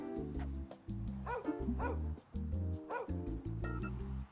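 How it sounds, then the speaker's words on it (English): Dog barking in the point-and-click adventure game Ben There, Dan That, a few yips and bow-wows over a steady game music backdrop, moderately loud with no talk. "There's a dog."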